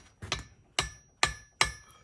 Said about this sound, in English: take a little teeny hammer and give it some light taps